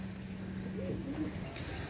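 A pigeon gives a soft, low cooing call once against steady background hum and faint noise.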